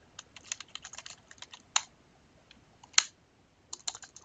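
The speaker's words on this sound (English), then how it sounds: "I think we can type that." Keys clatter on a computer keyboard in quick irregular bursts with a few louder presses, close and soft with no talking.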